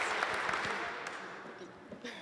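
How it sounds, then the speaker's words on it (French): Applause after a presentation at a sustainable mobility event, a soft, scattered clapping from a small audience that tapers off quickly, with a few distinct claps standing out. "on peut tous applaudir Solène pour cette présentation."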